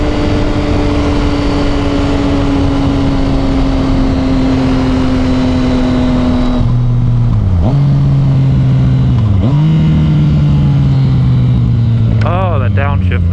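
Motorcycle engine droning steadily at high revs, then dropping through several downshifts with pitch falling and rising between gears, loud and close with heavy wind and helmet noise throughout.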